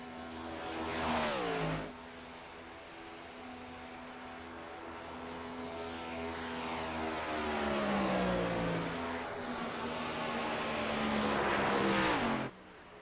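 Robert Morrison's race car runs at a speedway during an OP Grand National event. A loud engine roars past near the start, a quieter drawn-out engine note sweeps down in pitch as the car slows, and a second close pass comes near the end.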